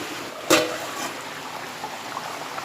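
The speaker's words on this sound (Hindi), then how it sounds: "सालन बन गया है, अच्छे से उबाल आ रहा है और बटाटे भी गल गए।" Konkani potato and drumstick curry bubbling in a pot gives a soft, steady simmer of small liquid bubbles and gurgles, with one sharp clink near the start and faint pops continuing after.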